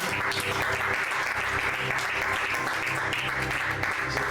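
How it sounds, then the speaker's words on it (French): A church congregation applauds in acclamation, a steady dense wash of clapping running evenly from start to finish with no voices on top. "Acclamons le Seigneur pour la régie."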